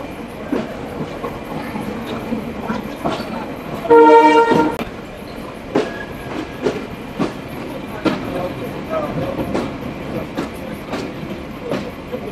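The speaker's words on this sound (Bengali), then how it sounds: "আমাদের ট্রেন ছেড়ে দিল খুলনা রেলওয়ে স্টেশন" A train pulling out of Khulna railway station gives a loud horn blast partway through, over rhythmic clickety-clack of wheels on rail joints and the steady rumble of the moving carriages.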